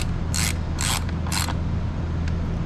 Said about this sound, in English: we're just tightening down the tank cover or air filter cover